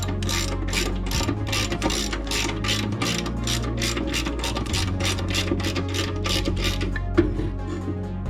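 Ratchet wrench tightening a push lawn mower blade back onto its carrier, a fast, even series of close metallic clicks repeating throughout, loud and steady with no talk.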